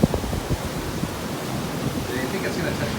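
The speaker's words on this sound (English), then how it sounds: "winds are definitely picking up. And the, you can see the water's really coming further up" Rising wind and ocean surf on the Cancun coast in the evening before a storm, with a broad steady roar of waves and gusts buffeting the microphone close up.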